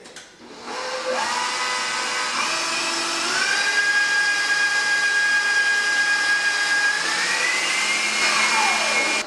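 An electric mixer beats cream cheese on high speed for a peppermint tart filling, a loud, continuous motor whine that climbs in pitch as it runs, heard alone.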